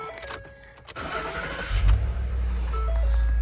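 A car engine cranks and fires up close by, a brief starter whir rising into a steady idling rumble, with a cooling fan whine and chimes in the background.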